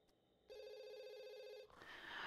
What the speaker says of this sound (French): Oh, ce téléphone, c'est affreux.